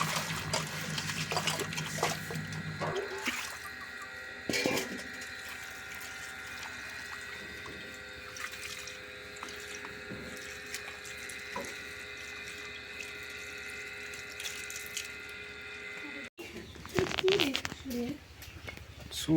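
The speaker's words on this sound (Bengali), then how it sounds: "তো চলো এখন ভালো করে ধুয়ে নিই আমগুলোকে" Water running steadily from a tap while mangoes are washed, a faint continuous splashing and hiss with occasional handling knocks, and a voice speaking over it near the start and end.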